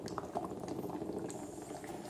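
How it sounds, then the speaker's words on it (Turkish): A liquid boils steadily with a dense, continuous bubbling and gurgling, close and moderately quiet, with no voices. "Güzel kaynıyor ama. Çok sıcak."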